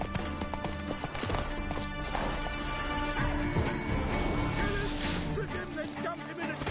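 Witcher 3 horse Roach trotting, steady clip-clop hoofbeats at a moderate pace, fairly quiet, under ambient noise and some background voices.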